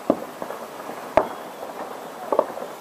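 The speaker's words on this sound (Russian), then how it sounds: "На Красной площади продолжаются салюты" New Year fireworks over Red Square in Moscow, heard from a few hundred metres away: three distant booms spread over a few seconds, muffled and fairly faint above a low background hum.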